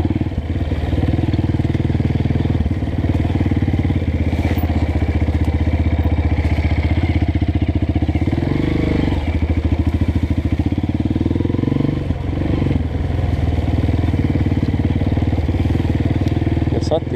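A Honda CRF 230 dirt bike ridden on a rural trail runs continuously, its single-cylinder engine loud and close with a steady chugging throb, swelling briefly under throttle near the middle and again later.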